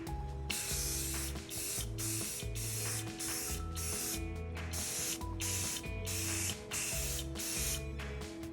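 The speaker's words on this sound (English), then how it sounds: "give a few more light coats of the gloss crystal clear Krylon" Short repeated bursts of Krylon gloss crystal clear spray paint hiss from a can, about a dozen even pulses with brief gaps, each accompanied by a low mechanical whir, close and without talk.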